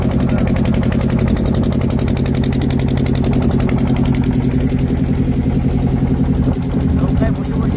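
A large ferry boat's engine chugs steadily on the Damodar river, a continuous loud drone with rapid rhythmic pulsing and people talking over it.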